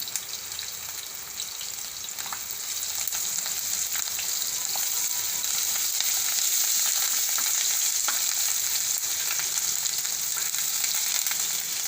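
Garlic, chillies and ginger frying steadily in a pan as they are stirred, a dense continuous sizzle that swells louder after the first few seconds, with no voices.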